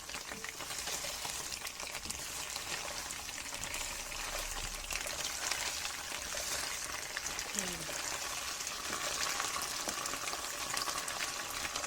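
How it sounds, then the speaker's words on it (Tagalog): Grated coconut and coconut milk fry down into latik in a pan, giving a soft, continuous sizzling hiss that stays quiet and even throughout. "Patuyuan lang yung ating coconut milk"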